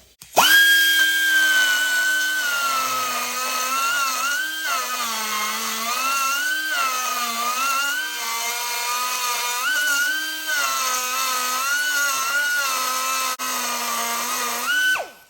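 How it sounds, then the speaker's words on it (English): Straight die grinder fitted with a porting bit shaping a metal kick start arm from a Harley chopper, a loud, steady high-pitched whine that dips and rises in pitch as the bit loads up in the cut and then frees itself again. "So I'm just using a porting bit on a straight die grinder"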